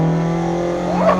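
A lightweight Toyota AE86 revs hard while drifting on a wet track with standing water, its engine note droning steadily close up and then rising in a sharp climbing rev near the end.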